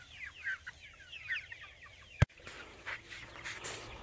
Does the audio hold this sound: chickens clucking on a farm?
yes